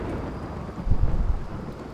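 Rain and thunder in the video game Rimworld: a steady hiss of rainfall with a low thunder rumble swelling midway, then easing back under the rain.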